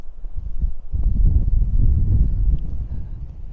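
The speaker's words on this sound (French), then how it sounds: "j'ai peur qu'il y ait un petit peu trop de vent" Strong wind buffets the microphone atop a dune ridge, a steady low roaring rumble with gusts that swell after the first second and stay loud throughout, no talking.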